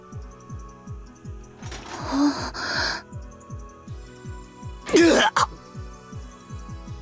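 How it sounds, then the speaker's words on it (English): A video game character coughs and groans in pain, two rough, breathy bursts over repetitive background game music, with no talk. "Battler coughed up blood and groaned."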